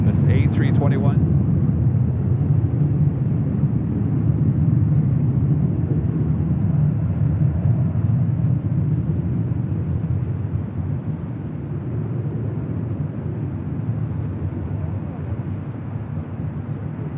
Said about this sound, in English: It's Delta Airlines Flight 1483 heading to Salt Lake City in this A321.